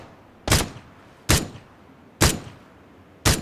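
Four heavy, evenly spaced gunshots ring out in a battle royale game, each a sharp loud crack with a short decaying tail, close and alone without talk.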